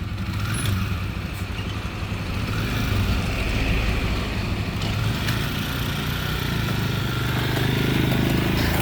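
A motorcycle engine runs steadily and loudly close by for the full stretch, a dense, unbroken rumble with no voices over it.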